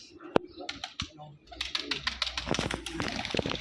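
Domestic pigeons coo in a friend's house loft, soft throaty calls scattered among clicks, shuffling and a low background hum, with people talking nearby.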